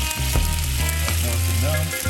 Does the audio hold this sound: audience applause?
no